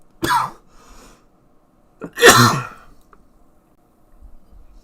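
Two harsh coughs ring out close to the microphone, a short one followed a couple of seconds later by a heavier, longer one, with quiet between.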